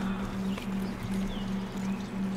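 Horse hooves clip-clopping in Horizon Zero Dawn, a steady galloping rhythm under a constant low droning hum and ambient game sound, with no talk.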